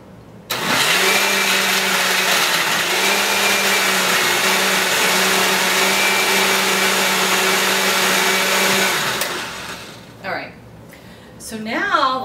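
A blender or food processor runs at steady speed for about eight seconds, chopping raw vegan lasagna ingredients, a loud, even motor whir that cuts off sharply, followed by quieter clatter and handling noises.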